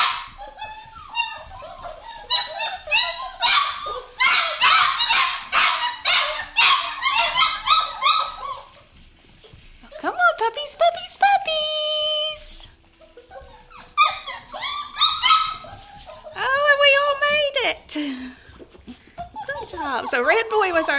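Doodle puppies crowd in together to eat, letting out bursts of high whimpers, yips and small barks in clustered runs with short quiet gaps, close up, while a person talks at times.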